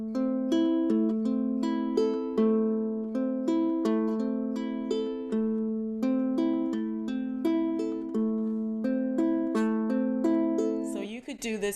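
A low-G ukulele is played fingerstyle in a steady, repeating pluck pattern of single notes and chords. The playing is even and moderately close, with no voices.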